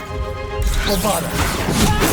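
A Bombarda spell explosion in Hogwarts Legacy, a loud close blast and crashing burst that swells after a short spoken incantation and rumbles on to the end.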